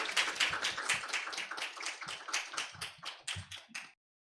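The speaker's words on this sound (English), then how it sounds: "a big round of applause" An audience applauds to welcome a keynote speaker at a language-learning anniversary conference, a short burst of claps with some louder bursts, heard close, before it cuts to silence.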